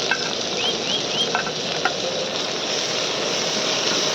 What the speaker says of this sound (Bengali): পেঁয়াজটা হালকা ভেজে নিয়েছি এবার দিয়ে দেবো টমেটো কুচি লঙ্কা কুচি